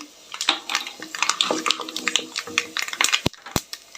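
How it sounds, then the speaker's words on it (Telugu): Mustard seeds dropped into hot oil while making lemon rice, a lively scattering of crackles and small pops with a few sharper snaps, close and clear. "ఇప్పుడేంటంటే కొంచెం ఆవాలు వేస్తున్నా"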